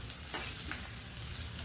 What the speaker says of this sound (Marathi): आपण आता ही मिरची कट केलेली ती कांद्यात मिक्स करून फ्राय करून घेऊयात